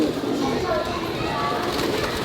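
Pigeons cooing at Parque de las Palomas in Old San Juan, Puerto Rico, a soft, continuous murmur of overlapping coos under busy outdoor ambience and nearby voices.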